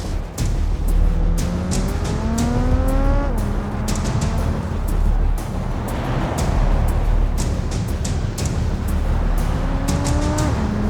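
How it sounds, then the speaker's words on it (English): A Vivace S car driven aggressively in BeamNG.drive, engine revving hard through rising gear shifts, loud and steady throughout with faint tire noise and other traffic passing. "Emily was driving her Vivace S"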